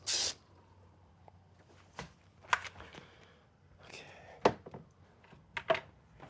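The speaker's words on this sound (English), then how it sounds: "Nothing like the sound of a spray paint can." Short bursts of hissing spray from an aerosol can, one strong blast at the start and several quicker sprays later, with soft rustling between.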